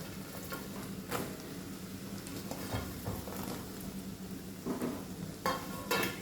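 Eight large green chillies go into a hot pan for white lemon pickle and sizzle quietly while being stirred. Faint scrapes and clinks of the utensil sound over a low, steady frying hiss.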